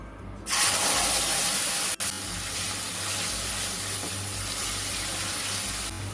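Freshly ground paste of ginger, green chili and whole cumin drops into hot oil with bay leaf, setting off a loud, steady sizzle after a short pause that carries on evenly to the end, with no talk.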